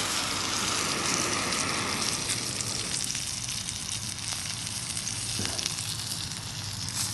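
Burgers sizzle steadily in a hot pan, a dense continuous crackle and hiss at close range, slightly easing partway through, with no talk.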